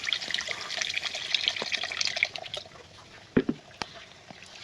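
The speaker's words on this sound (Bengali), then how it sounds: "এখন আমি জল দিয়ে দিব।" Water pours into a pan of egg curry being cooked with coconut, a splashy liquid stream for a couple of seconds, then it tapers off, followed by a few clunks and drips.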